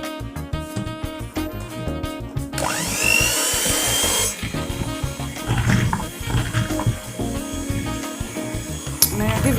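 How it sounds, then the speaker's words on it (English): Ghanaian pound cake batter is beaten in a big bowl with an electric mixer, giving a loud continuous whirring drone that shifts in pitch as the beaters move through the batter. "Give it a whisk for about 1 minute or so, 30 seconds."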